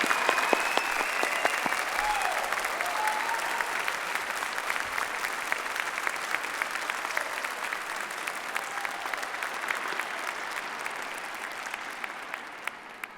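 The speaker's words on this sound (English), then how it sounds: "Can we please have a round of applause for our wonderful name reader" A graduation ceremony audience applauds in a large hall, dense sustained clapping from many people that holds steady and slowly thins toward the end.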